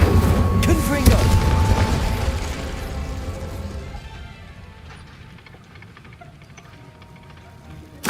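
Explosive Confringo spell blast in Hogwarts Legacy, a loud booming burst that rumbles and slowly fades over several seconds, mixed with clattering mechanical debris, then a sharp pop at the very end.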